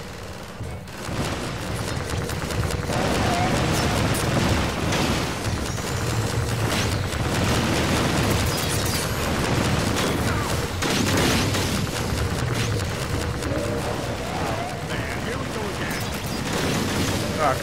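Rocket explosions in the video game Half-Life 2: Episode 2 boom through a dense, continuous wall of loud battle noise, with rapid gunfire and heavy blasts layered together and no gaps.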